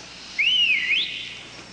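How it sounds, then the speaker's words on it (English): A single sliding whistle blown once, a clear shrill tone that rises and falls over about half a second, close and loud against quiet background. "there's the whistle that was the envy of every kid on our block"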